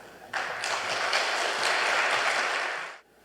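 A short burst of audience applause welcomes a lecturer at a Korean church special lecture for Reformation Sunday. It starts abruptly, holds steady for under three seconds, then cuts off.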